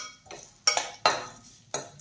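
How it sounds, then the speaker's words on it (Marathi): A few sharp clinks and scrapes of a spatula in a pan as seeds and poppy seeds fry for fenugreek (methi) ladoos, quiet, spaced bursts with no talking. "आता आपण सीड्स छान तळून घेऊया।"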